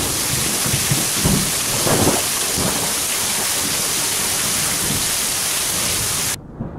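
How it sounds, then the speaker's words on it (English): Heavy rain and a thunderstorm arrive over an island at the start of the wet season: a loud, steady roar of rainfall with low thunder rumbles rolling through, until it cuts off abruptly near the end. "After many months here on the island, rain is finally coming."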